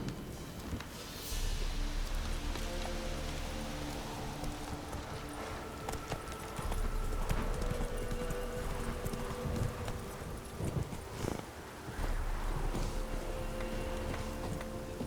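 Roach the horse trots with steady hoof clip-clops in the Witcher 3 video game, an even, moderately close rhythm over soft ambient background noise for about fifteen seconds.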